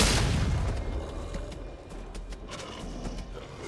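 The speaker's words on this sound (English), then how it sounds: "Red team's turret has been destroyed" Turret destruction in League of Legends: a loud boom at the start fades into a low rumble, with scattered crackling game effects trailing off over the next few seconds.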